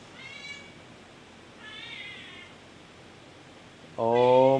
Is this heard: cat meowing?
yes